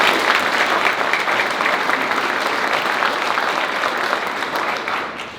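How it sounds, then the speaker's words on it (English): Sustained applause from a crowd for legislators at a governor's announcement at Louisiana Tech: a dense, even clatter of clapping that holds steady, then tapers slightly at the end. "I want to give another round of applause for the legislators"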